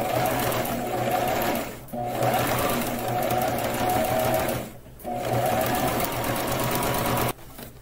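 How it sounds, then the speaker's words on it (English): Up close, a sewing machine stitches fabric for a surgical mask in fast, steady mechanical runs, pausing briefly twice before continuing. "we're just going to go in another 1/4 inch and just sew that all the way around"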